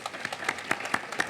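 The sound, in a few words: audience applause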